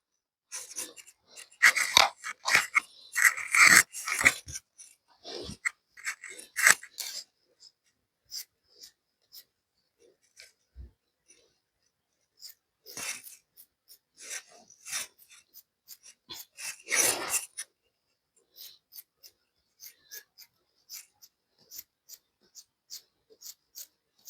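Scissors cut through fabric for an umbrella-style hijab in bursts of crisp snipping and rustling, loud and close, with quiet pauses between cuts and no talking.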